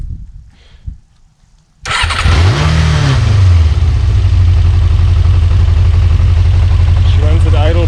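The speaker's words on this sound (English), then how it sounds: "I will be turning on the machine now to see if everything runs." A Yamaha XJ 600 motorcycle engine cranks and catches after a quiet moment, briefly revs up, then settles into a steady, loud, close idle that runs to the end.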